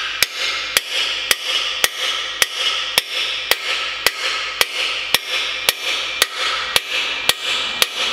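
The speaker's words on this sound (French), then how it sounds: "Une fois que l'outil est placé, un petit marteau et on tapote." A small hammer taps a tool to press a piston oil jet into a Renault Megane RS engine block, giving a steady series of sharp, close metallic knocks about twice a second, alone without talk.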